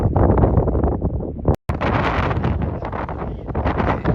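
Strong wind roars across a mountain pass on Paintbrush Divide, buffeting the microphone with loud, continuous rumbling gusts and a very brief dropout partway through.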